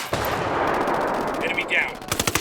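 Rapid automatic gunfire from the Ghost Recon Wildlands video game, a sustained burst of loud shots followed by a string of distinct, evenly spaced cracks near the end.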